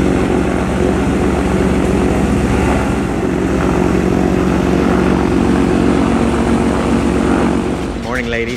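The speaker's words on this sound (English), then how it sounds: "the float planes are revving up. Engines are warm" Float plane engines roar loud and close in a sustained, dense drone, holding steady before the pitch dips and wavers near the end.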